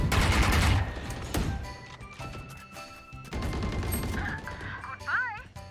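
Valorant gunfire rattles in bursts and crashes amid busy game effects, loud and close at the start and returning later, with game voices talking over parts of it.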